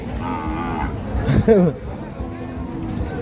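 A cow lets out a loud, close moo at a busy livestock market, one drawn-out call rising over a background of crowd babble and someone talking.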